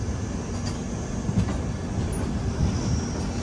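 The Patna Express rolls into Jolarpettai Junction station with a loud, continuous rumble of wheels on rails and occasional rhythmic clacks.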